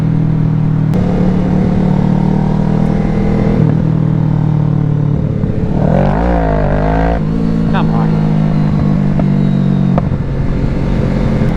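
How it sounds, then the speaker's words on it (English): A motorcycle engine runs close and loud at a steady throb, then revs up in a rising and falling sweep midway before settling back to an even idle. "This bike sounds so freaking good."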